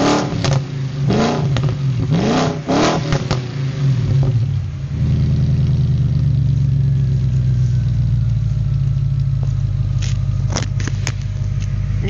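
Audi A6 4.2 Quattro V8 with its rear mufflers removed, blipped through several sharp, loud revs up close before settling into a deep, steady idle rumble with a few faint crackles near the end.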